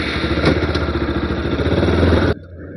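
A Bajaj Pulsar RS 200 motorcycle engine runs close up with a loud, even, pulsing thrum, then cuts off abruptly, leaving only faint background.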